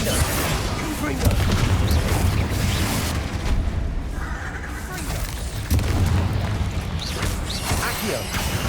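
Fiery Confringo spell blasts in the video game Hogwarts Legacy, booming explosions and crashes layered with dense combat noise, loud and continuous, with voice sounds mixed in.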